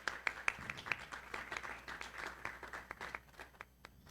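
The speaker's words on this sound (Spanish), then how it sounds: "le pido al público si le da un pequeño aplauso para recibirlo" An audience at an editorial forum on graphic design gives a short, moderate round of applause to welcome a speaker, with scattered claps fading over a few seconds.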